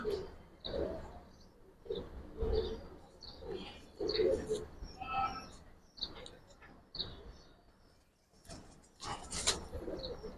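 Giribaz pigeons coo softly in short repeated bursts, mixed with rustling and occasional chirps, close by and fairly quiet.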